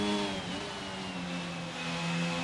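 Race car engines rev continuously in a sim racing game set at the Italian Grand Prix circuit, a steady mid-pitched whine holding at moderate level throughout.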